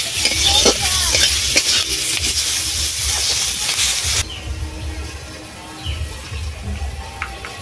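Garlic, ginger, onion and tomato fry in a wok with a loud crackling sizzle and stirring, which drops to a quieter, muffled simmer about halfway through.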